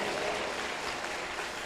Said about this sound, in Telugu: గట్టిగా గట్టిగా చప్పట్లు కొట్టండి